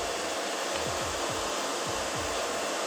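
A hair dryer on its low setting blows steadily and close while drying hair, a constant airy whoosh with faint rhythmic dips as it sweeps through the hair, heard alone with no talking.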